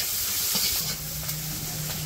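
Onion and green chili sizzle in a hot wok in a simple village kitchen, a steady loud hiss of frying with a few soft stirring knocks and a low hum joining partway through; no talking.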